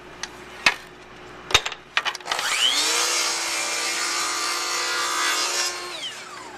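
A power saw makes a compound miter cut through wood crown molding: a few knocks and clicks, then the blade spins up and whines through the cut for about three seconds before winding down, loud and close.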